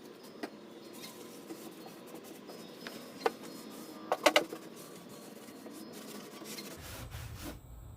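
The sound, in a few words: rubbing Old English polish onto a wooden bar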